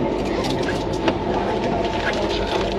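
Jammu Rajdhani Express moving on the rails, heard from inside as a steady loud rumble with faint rhythmic wheel clatter.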